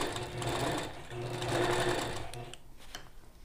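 Sewing machine quilting feathers with a rose ruler, a steady fast needle hum that speeds and slows, close and moderately loud, trailing off near the end.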